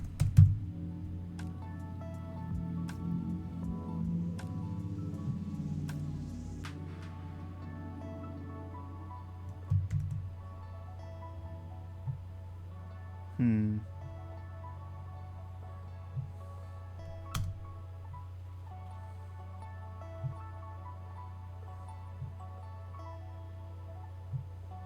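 Someone types on a computer keyboard, with a cluster of rapid key clatter at the start, then sparse, isolated sharp keystrokes spaced out over a quiet steady hum.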